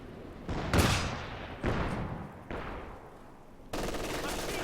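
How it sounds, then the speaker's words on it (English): Machine-gun fire in Company of Heroes 2 comes in several sharp bursts, each starting with a crack and fading into a rattling decay, with a final burst at the end and no talk over it. "They start shooting at me"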